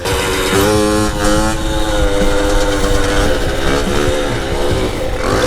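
A moped with a sticking clutch pulls away slowly from a stop. A steady, loud engine drone climbs gradually in pitch as it accelerates, heard alone and close.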